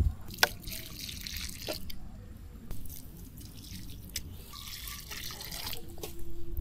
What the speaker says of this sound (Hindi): थोड़ा थोड़ा पानी डालते हैं इसमें